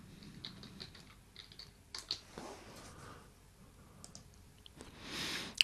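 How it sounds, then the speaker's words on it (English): Password being typed on a computer keyboard: scattered, quiet key clicks in uneven bursts, close up and alone. "here you'll have to type in the password."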